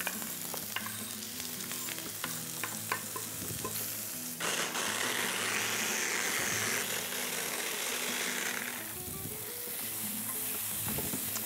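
Peppers fry in a restaurant pan, sizzling loudly and steadily with stirring clatter, the sizzle swelling midway and continuing without talk.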